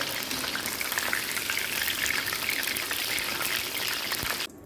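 Chicken pieces frying in hot oil for restaurant-style chicken Manchurian: a steady, close, loud hiss with dense crackling and popping that goes on unbroken, then cuts off abruptly near the end, with no talking.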